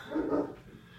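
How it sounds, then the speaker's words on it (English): A dog indoors gives a short, close bark or yip, one brief burst fading quickly. "That's my dog, Cody."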